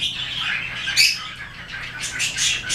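Pet store birds squawk and chirp in a busy, overlapping chorus of bright calls, with a sharp burst near the middle and denser chatter toward the end.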